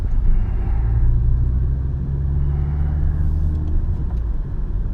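A car rolls through a narrow old-town street in Prague, its engine and tyres producing a steady, close rumble that fills the whole stretch without a break.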